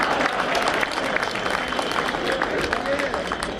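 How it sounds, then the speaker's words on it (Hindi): Audience clapping at an indoor Hindi-language gathering, a steady dense wash of applause filling the whole stretch at moderate loudness, with crowd murmur mixed in. "ताली थोड़ी सी जोरदार कर दो"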